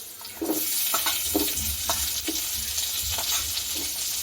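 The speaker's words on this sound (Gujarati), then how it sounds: "હવે તેમાં આપણે કાંદા સાતળી લઈશું" Onions sautéing in butter and ghee with fried cashews, a steady sizzle throughout with several soft stirring scrapes spaced about a second apart.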